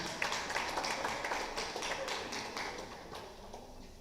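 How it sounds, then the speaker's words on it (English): An audience applauds a speaker at a digital health live event, a dense patter of many hands clapping at moderate loudness that slowly thins toward the end; no talk over it. "We can clap for him."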